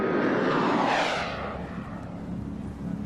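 Black military jets of the 37th Tactical Command roar past in a loud, sustained rush of engine noise that sweeps by and then settles into a steady, slowly fading rumble.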